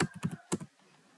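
Typing of a networking command on a computer keyboard, in a quiet room: a short, close burst of about half a dozen soft key clicks in quick, uneven rhythm, then silence.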